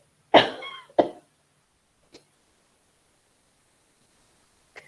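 Two sharp coughs in quick succession, close by, followed by a couple of faint throat noises in near silence.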